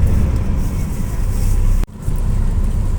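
Road traffic heard from inside a moving vehicle, a steady low engine and road rumble with a brief dropout near the middle before the hum resumes.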